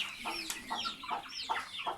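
A hen clucks softly in short repeated notes while chicks peep in higher chirps nearby, a close, low-level farmyard chatter.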